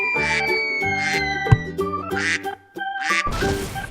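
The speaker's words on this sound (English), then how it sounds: "A duck says quack quack." A farm duck quacks in a short run of calls, loud and close, over a bright, tonal backing in a children's animal-sound lesson.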